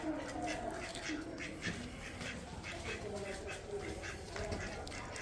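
Ducks quack with short, scattered calls, mixed with other background noise, as they are caught for slaughter.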